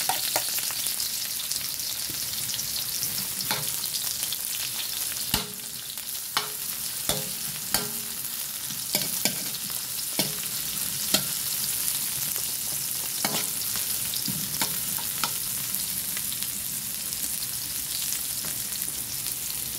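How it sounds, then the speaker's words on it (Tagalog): Garlic and onion sauté in hot oil for pancit bihon, giving a steady, close sizzle throughout. Scattered scrapes and taps from stirring cut in every second or two. "Unahin ko yung bawang. Then yung onion."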